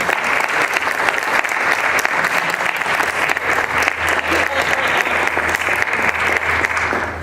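A large audience at an art event gives Julio a big round of applause. The clapping is loud, dense and steady throughout, with faint voices mixed in under it.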